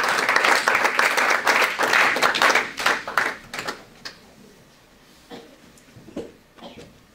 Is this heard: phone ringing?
no